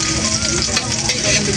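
Onions frying in a pan for ginataang papakol, stirred continuously, a loud, dense sizzle with scraping utensil strokes, close up and without talk.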